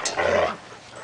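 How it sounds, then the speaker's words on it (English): Shelter dogs at play let out a short, close growling snarl that fades quickly. "Oliver and Sage love to play together"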